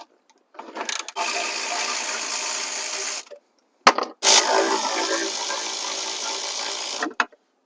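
A ratchet wrench with a 16mm socket works bolts on a BMW N63 V8 engine, giving two long bursts of rapid, close clicking separated by a brief pause.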